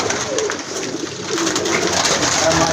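Pigeons coo on a rooftop loft of high-flying pigeons in Pakistan, soft repeated coos close by over a steady background hum.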